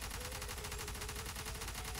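A tank's cannon and guns in the video game Renegade Line produce dense, continuous rapid gunfire, a steady loud rattling barrage with no talking over it.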